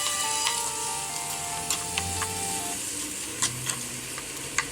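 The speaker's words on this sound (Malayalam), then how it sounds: "ഏകദേശം ലോ ഫ്ലെയിമിൽ തന്നെ ഇളക്കുന്നു." Banana stem thoran being stirred in a pan over a low flame, a soft continuous sizzle with light scraping taps of the spoon against the pan.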